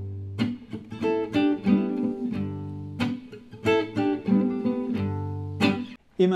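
Rhythm guitar double stops played at a brisker tempo, in quick successive picked chord stabs and short licks that ring close and clear, without any voices.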